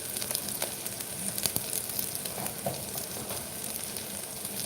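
Ginger garlic paste frying in plenty of oil in a pan while being sautéed for tomato rice gives a continuous close sizzle, broken by occasional sharper crackles and stirring scrapes.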